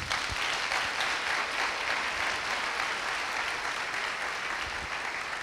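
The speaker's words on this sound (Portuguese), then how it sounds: "Aplauda o Senhor por isso." A church congregation claps together during a service, a dense, steady wall of applause that fills the room and holds at an even level from start to finish.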